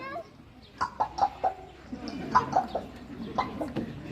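A bird's voice imitates gulping, a quick series of about four wet swallowing sounds, then a few more after a pause, close and clear.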